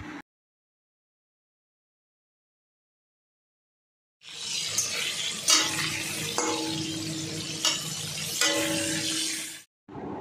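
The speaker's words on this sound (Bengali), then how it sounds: "তো পটলগুলো ভাজা হয়ে গেছে," Pointed gourd pieces frying in hot oil with salt and turmeric, heard after a few seconds of silence as a dense sizzle with clinks and scrapes of stirring in the pan, fairly close.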